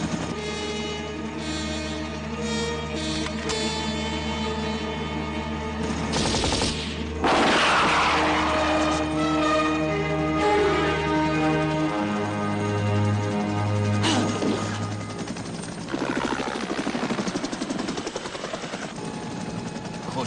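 Gunfire in an Iranian war film, with bursts of shots and rapid automatic fire mixed with a droning helicopter-like engine and music, loud and dense throughout.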